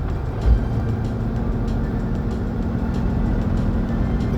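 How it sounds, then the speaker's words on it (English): A 2007 Ford Mustang GT on a test drive after an 8.8 rear axle bearing repair gives a steady low engine and road drone from inside the cabin, even and unbroken, with no talk. "With everything reinstalled, take a test drive."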